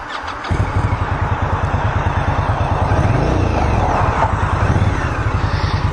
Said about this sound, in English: Let's get the gas started up again so you can hear the exhaust.